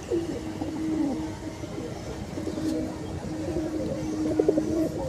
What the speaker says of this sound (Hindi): बहुत बेहतरीन स्टैंडिंग का कबूतर है झोंटू भाई का, आप देख सकते हो